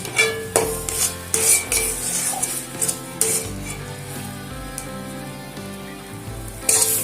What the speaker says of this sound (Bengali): গ্যাসের ফ্লেমটা কিন্তু লো টু মিডিয়ামে রেখে বারবার এটাকে নাড়াচাড়া করতে হবে, না হলে কিন্তু কড়াইতে লেগে যেতে পারে